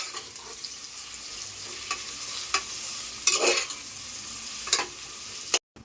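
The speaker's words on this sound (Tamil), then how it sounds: "இப்போ நல்லா கலந்து விட்டுக்கோங்க" A spoon scrapes and stirs through onions frying in a biryani pan, soft sizzling underneath with intermittent clinks and scrapes against the metal, close and moderately quiet.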